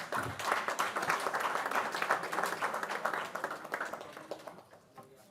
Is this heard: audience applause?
yes